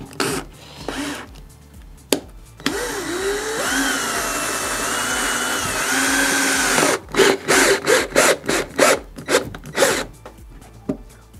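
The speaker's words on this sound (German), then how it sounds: "und dann rücken wir das jetzt von der Wand weg und drehen da die Dübel rein" Wall plugs are twisted into drilled holes while fitting a scrap-wood insect screen door, giving a sustained grinding, rubbing whir for a few seconds, then scattered knocks and scrapes nearby.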